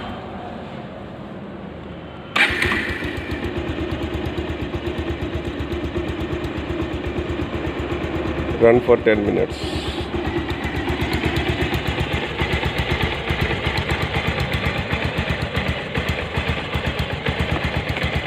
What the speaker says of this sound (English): Let us start the engine.